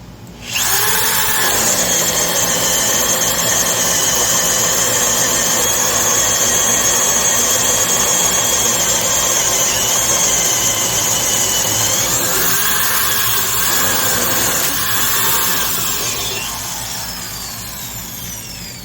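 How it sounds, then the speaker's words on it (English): A Milwaukee 1/2-inch Magnum Hole Shooter corded drill runs continuously with a high, steady gear whine as a large self-feed bit bores into wood, loud and close, easing off toward the end. "that's a beautiful sounding drill, just really nice sounding gears"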